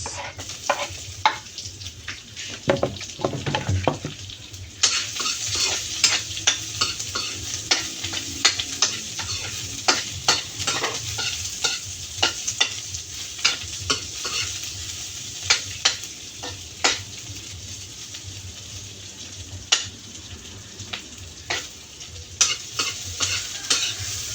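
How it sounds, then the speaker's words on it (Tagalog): Garlic and onion sautéing in a pan, a steady loud sizzle with repeated sharp scrapes and clicks of stirring throughout, no voices. "yan yung bawang na ating uh, ginisa tapos sunod natin yung sibuyas"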